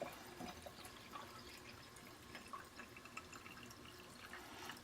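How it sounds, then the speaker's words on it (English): Water trickles and splashes into a container for homemade root soda with sugar already inside, quiet and close, with small uneven drips and pouring sounds and no talking. "I'm going to go ahead and put my water in here"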